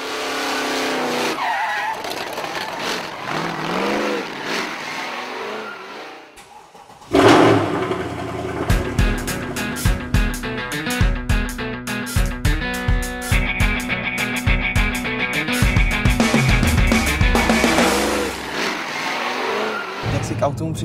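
A Mercedes C63 AMG starts up and drives off hard, its engine revving loudly while tires squeal and skid in repeated bursts; people talk quietly before the car takes off.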